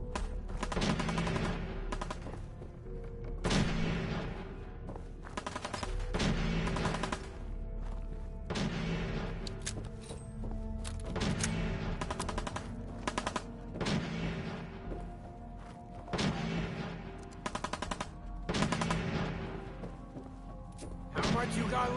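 Gunfire in Fallout 4, with repeated bursts of rapid automatic shots and heavy booming blasts coming in waves, close and loud, under an ongoing mix of battle noise and voices.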